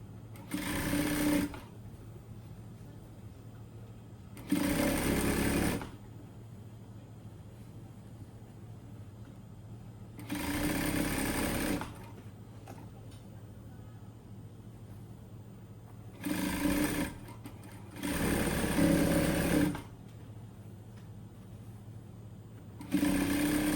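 Sewing machine stitching a tracksuit, running in several loud bursts of steady whirring separated by pauses, with a low hum underneath between runs.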